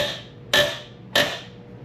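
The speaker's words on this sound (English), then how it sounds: "So you can hear how rusted in those bolts are." On a Jeep, a wrench breaks rusted bolts loose with two loud, sharp metallic cracks about half a second apart, each ringing briefly before fading, close up and without talk.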